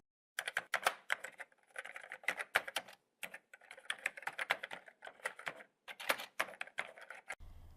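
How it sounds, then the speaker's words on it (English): Rapid bursts of typing on a computer keyboard while entering code, keys clacking in quick uneven runs with short pauses between, close and fairly quiet, no voices. "it's time to type in your code"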